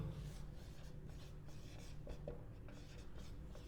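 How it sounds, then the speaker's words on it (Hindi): A pen scratching out a definition on a board or page during a nursing lesson on the cardiac cycle, a continuous close rubbing stroke with no speech over it. "डेफिनेशन लिख रहा हूं"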